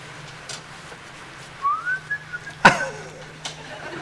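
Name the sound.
Someone whistling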